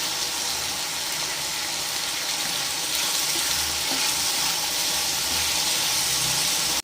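Potatoes fry in a pan with turmeric and salt, giving a loud, steady, close hissing sizzle that carries on without a break.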